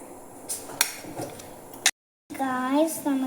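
Food seasoned with salt is mixed in a large bowl, giving a few sharp clinks and scrapes of a utensil against the dish, then a brief gap and a voice over soft handling noise.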